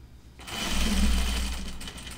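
A sewing machine stitches fabric for Burnside Bibs overalls, a steady rapid whirring run that builds and holds for about two seconds at close range, with no voices.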